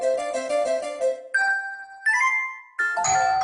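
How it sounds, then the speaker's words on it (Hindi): A household doorbell plays a melodic chime: a quick run of tinkling tones followed by several clear, sustained ding-dong notes at a moderate volume, nearly alone. "अपने डोरबेल बजी"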